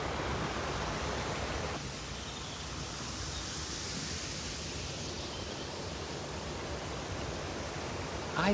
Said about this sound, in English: the sound of water is one of the things that relaxes me the most.